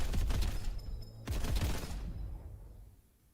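Bolt gun firing in a Warhammer 40K game: two rapid bursts of heavy shots, the second ending in a fading tail, fairly close and free of talk.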